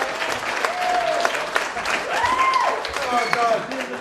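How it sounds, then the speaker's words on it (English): Wedding guests applaud the groom with steady, loud clapping, mixed with cheers and whoops from the crowd and voices calling out over the applause. "Big round of applause for the groom."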